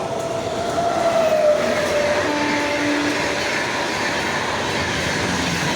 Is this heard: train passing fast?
yes